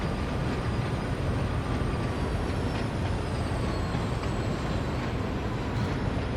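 A Class 66 diesel locomotive, number 66183, introduced in 1991, runs in Train Sim World 2 with a steady, loud engine drone and rolling rumble, unbroken throughout and with no voices.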